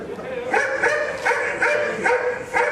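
A dog barks repeatedly at a moderate distance, several sharp yips spaced through a busy outdoor background of murmuring people at a show.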